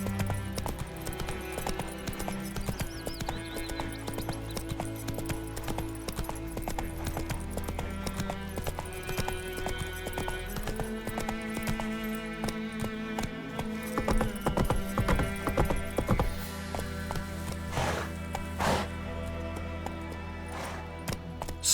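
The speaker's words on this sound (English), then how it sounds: "Run, Roach." Roach the horse gallops in The Witcher III, steady hoofbeats clip-clopping continuously under game music and ambience.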